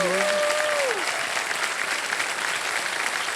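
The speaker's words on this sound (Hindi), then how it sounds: "मान्यवर ताली बजती रहे इनके लिए।" A studio audience on a television quiz show claps in a steady, dense burst of applause, with a short voice tone at the very start before the clapping carries on alone.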